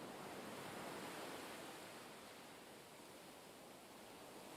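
Ocean waves on a beach, a steady soft wash of surf that swells slightly then eases, continuous and moderately distant with no voices.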